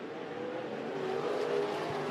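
Race cars lap a short track in a night race with a continuous engine drone and a slight rise in revving, heard at a moderate distance.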